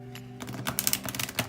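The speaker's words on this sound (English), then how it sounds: "Anyway, on to the shuffling." Large, thin tarot cards are shuffled close up in quick bursts of crisp, light flicking and rustling.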